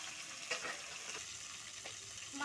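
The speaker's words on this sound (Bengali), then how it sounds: "আমি সব মাছ একবারেই ভেজে নেব।" Rui fish pieces frying in hot oil, a soft steady sizzle heard close but quiet, with light pops and an occasional scrape of a spatula in the pan.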